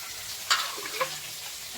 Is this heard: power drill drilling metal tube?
no